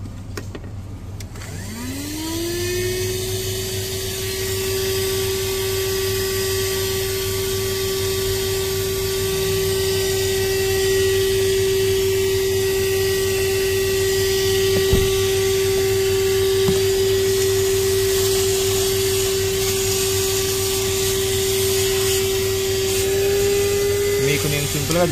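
A portable 4-in-1 vacuum cleaner and tyre inflator spins up and runs continuously with a steady high electric whine and motor hum, close and unbroken for the whole stretch.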